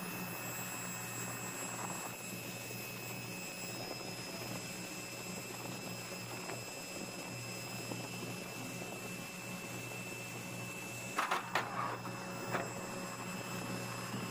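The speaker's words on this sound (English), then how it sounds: "Trailing edge flaps are extending now." The trailing edge flaps of a Boeing 737 NG extend toward flap 40, a steady mechanical whine with constant tonal hum droning evenly, plus a few brief clunks near the end.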